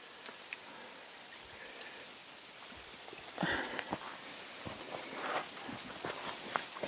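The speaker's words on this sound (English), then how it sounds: "looks like the rain's getting ready to pick back up" Steady rain patters down beside a creek outdoors, a soft continuous wash of drops with a few sharper taps and a slightly heavier burst partway through, no voices.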